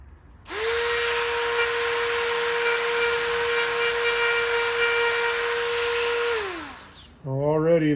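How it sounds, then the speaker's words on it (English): A power sander grinds sandpaper against the rear fender seat of a 2009 Police Special motorcycle, holding one loud, steady whine for about six seconds before it winds down, followed by a brief rising tone. "my sandpaper is sliding down, but it is taking some material off."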